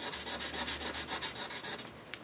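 Rhythmic back-and-forth rubbing of wet sandpaper on jewelry, steady strokes about four per second, close and fairly loud, with no talking.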